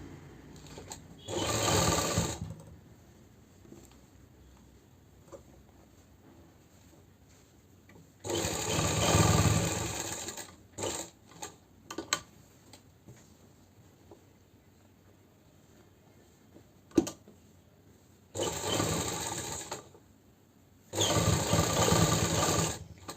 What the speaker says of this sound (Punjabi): ਹੁਣ ਆਪਾਂ ਇਹਨੂੰ ਕਰਾਂਗੇ ਫੋਲਡ ਅੰਦਰਲੇ ਪਾਸੇ ਆਪਾਂ ਤੇ ਬਰੀਕ ਸਲਾਈ ਲਾ ਲਾਂਗੇ